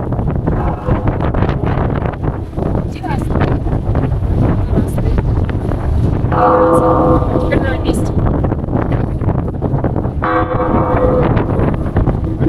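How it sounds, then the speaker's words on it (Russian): Strong wind buffets the microphone with a loud, constant roaring rumble, while people talk underneath it. "очень ветер сильный"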